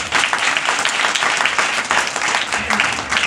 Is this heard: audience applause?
yes